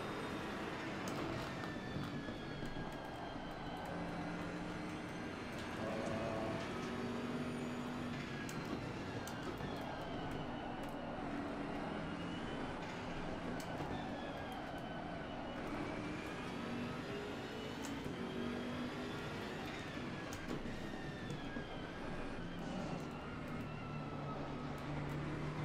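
A race car engine drones in the Assetto Corsa Competizione racing game, a continuous high-revving roar held near the limit with slight pitch swells, steady and moderately loud throughout with no clear pauses.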